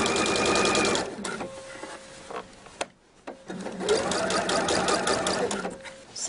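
Sewing machine stitching around the neckline of a hoodie, fast whirring bursts of running stitches broken by short pauses and clicks, with a brief quiet gap before stitching resumes.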